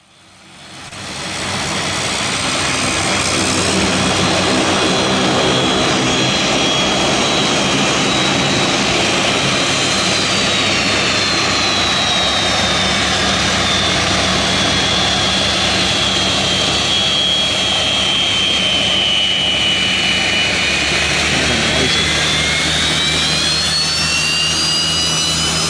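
A jet aircraft near a runway roars loudly and continuously, swelling in at the start, with a broad rushing engine noise and a whining tone that slowly shifts in pitch.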